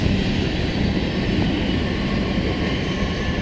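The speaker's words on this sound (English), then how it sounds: "Airplanes." A steady, broad engine roar from an airplane passing overhead near a dam on the Wenatchee River between Leavenworth and Cashmere, loud and unbroken throughout.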